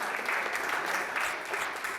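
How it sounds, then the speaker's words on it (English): An audience claps hands in unsynchronised bursts that merge into a constant, dense roar of applause, fairly loud and uninterrupted for about two seconds. "audience members clap their hands at random to produce a constant noise"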